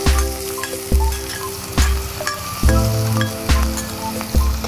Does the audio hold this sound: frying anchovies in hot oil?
yes